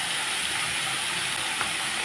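Salted eggplant, potato, tomato and cauliflower stems sizzle in a hot pan with a steady, even hiss throughout, and no voices.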